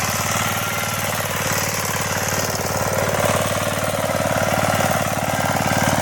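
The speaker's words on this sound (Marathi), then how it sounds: "आता आपण त्याच्यावरती ट्रॅक्टरचा नांगर आपण धरत आहोत" A loud tractor engine throbs steadily and rhythmically without a break, a constant heavy mechanical rumble close by, while the tractor pulls a plough through a field.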